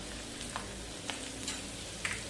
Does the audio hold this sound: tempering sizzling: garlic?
yes